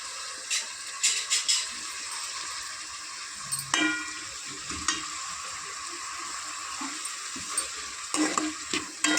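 Green chillies, coriander and mint fry in a pan for chicken bagara rice, a soft hiss punctuated by intermittent metallic scrapes and clinks of a stirring spoon.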